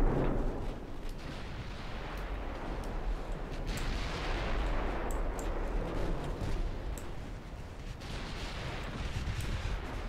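Warship guns boom in a naval battle from a French campaign in a video game: repeated heavy artillery blasts rumble and overlap in a dense, continuous barrage for several seconds.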